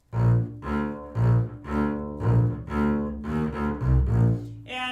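Bass plays a short Irish folk melody from a method book exercise in bouncy, evenly spaced notes, solo and clear with no voices.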